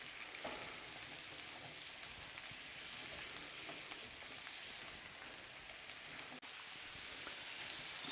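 Zucchini sautéing in a pan with butter, about 1.25 pounds cut from two medium pieces, giving a steady soft sizzle with faint scraping as it is stirred, quiet and unbroken apart from one brief dropout.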